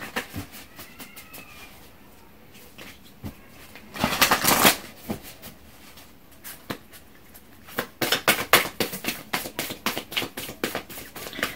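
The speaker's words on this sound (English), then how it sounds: "let me go ahead and pull some Moonology cards" Moonology oracle cards are shuffled by hand in several bursts, with soft taps and slides at first, then a loud riffle, then a long rapid run of crisp flicking snaps near the end, close and without speech.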